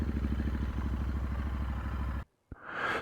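A Royal Enfield Interceptor 650 Mark II motorcycle with a chrome tank rides along, its parallel-twin engine thrumming in a steady pulsing beat, then cutting out abruptly before a short pop and a return of rushing noise.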